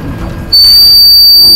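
A sharp, steady high-pitched whistle blown straight into a microphone cuts in suddenly and holds loud and unbroken for over a second, over low background noise from gameplay.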